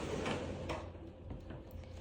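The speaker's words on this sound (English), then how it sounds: "And there's also a little sliding door right here." A small sliding door in a resort hotel room rolls open or shut, making a couple of quiet scraping slides with soft thuds against faint room noise.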